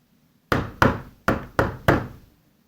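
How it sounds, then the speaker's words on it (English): Five firm knocks on a wooden front door, evenly spaced, close and distinct with short decays, no voices. "Then they drove home and knocked on their front door."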